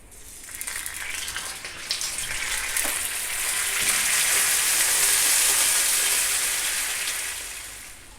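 Grated jaggery with a teaspoon of water melting in a pan over a medium flame, a steady close hiss and sizzle that rises and then fades slightly, with no talking.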